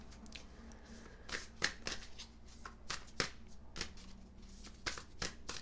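Tarot cards are shuffled close up in a quiet room, giving a run of soft riffling bursts and crisp flicks, with no talk over them.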